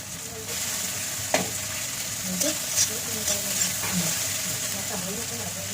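A single bay leaf fries in hot oil, giving a steady near sizzle with a few sharp pops and scrapes of stirring over a continuous hiss.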